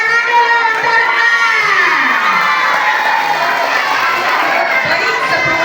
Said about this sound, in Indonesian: Tepuk tangan dulu untuk A.